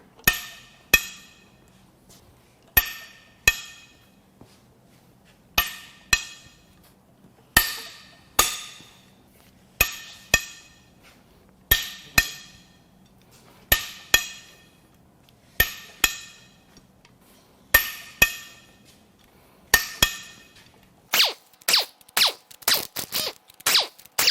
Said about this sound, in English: Now we will crack the head bolts loose.